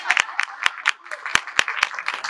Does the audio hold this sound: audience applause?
yes